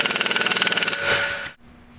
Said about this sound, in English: Take the half-inch impact gun with the 1 5/16 socket